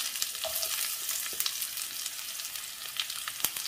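Onion frying in hot coconut oil with popped mustard seeds and fenugreek, a loud continuous close sizzle with scattered stirring clicks and small spits, no talking.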